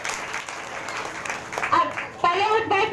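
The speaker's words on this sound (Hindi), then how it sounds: "इसलिए आप लोग तेज ताली के साथ परमेश्वर को धन्यवाद देंगे।" Church congregation applauding at a worship service, a burst of many hands clapping that grows louder toward the end, mixed with voices speaking over it.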